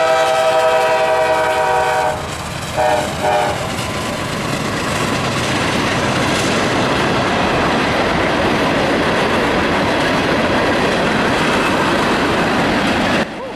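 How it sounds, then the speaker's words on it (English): A heavy CSX southbound coal train roars past loudly and continuously, its rumbling wheels and rattling cars filling the air after a short horn blast at the start. "a CSX southbound coal train came roaring on by."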